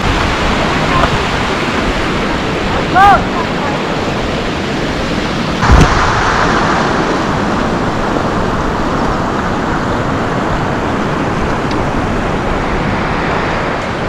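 Meltwater river in a valley of the Cilo Mountains, a steady, loud rushing hiss of flowing water filling the scene throughout, with a few brief faint sounds over it.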